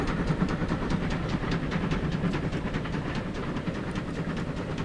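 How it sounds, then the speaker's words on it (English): In Transport Fever 2 with UK mods, a passenger train arrives with a steady rolling rumble, soft hiss and regular clickety-clack of wheels, moderately loud and continuous with no talking. "Here comes the train."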